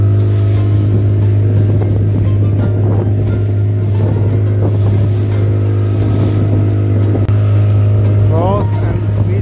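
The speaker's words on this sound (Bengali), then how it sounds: "জলের ঝাপটায় শিপ দুলছে, ভয়ঙ্করভাবে দুলছে" A boat travelling from Diglipur toward Ross and Smith Island in the Andaman sea pitches through rough water, a loud steady engine drone running under slaps and washes of sea spray, with faint voices in the background.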